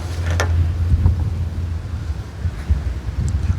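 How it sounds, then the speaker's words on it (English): Strong wind gusting across the microphone at a fishing lake, a steady low rumble with buffeting surges that swell and ease throughout, fairly loud and close, with no voices. "Right on cue, the wind's just turned hurricane."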